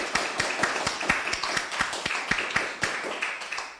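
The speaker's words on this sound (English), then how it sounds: "A big applause." Small audience at an evening reading and music event gives a short round of applause, distinct individual claps in a loose, steady rhythm at moderate level with little else around them.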